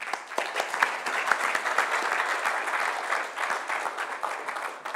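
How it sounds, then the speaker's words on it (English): Clapping from an audience after an engineering lecture, a dense, even patter of many hands that carries on for several seconds at moderate loudness without voices. "Round of applause, please."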